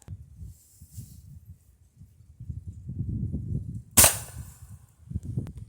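A .22 caliber pellet gun fires a ballistic tip pellet into gel, giving one sharp, loud crack that stands out over a quiet, rustling background.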